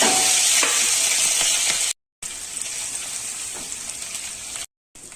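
Ginger, chili and garlic paste sizzles loudly in hot oil that already holds carom seeds, a dense continuous frying hiss close by, cut by two brief silent gaps.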